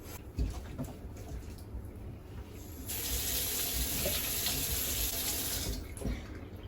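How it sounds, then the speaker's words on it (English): Water running from a kitchen sink tap while dishes are rinsed, a steady close splashing hiss that swells louder midway and then eases, with faint clinks at the start. "First, we have to rinse with water."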